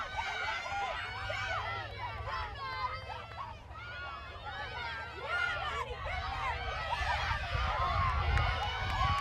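Crowd at a women's rugby 15s championship match at sundown, a steady roar of many voices with scattered shouts and cheers that swells louder toward the end.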